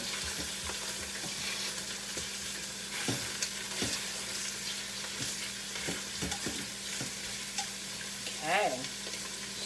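Chicken pieces browning in a Quick Cooker electric pot, a steady soft sizzle broken by scattered clicks and scrapes of stirring, with a brief whining squeak near the end.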